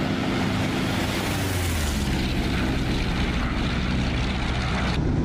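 A radio-controlled Fw-190 model plane makes a flyby, its engine a steady, loud, rough drone with a slight pitch shift before cutting off abruptly near the end.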